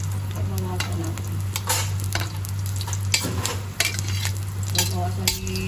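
Ginger being stirred into ginataang puso in a pan, a spoon scraping and clinking against the metal repeatedly over a steady close sizzle, with occasional voice in the background.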